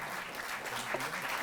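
A short burst of audience applause at a Delhi government award ceremony honouring athletes, with clapping blended into the hall's background murmur.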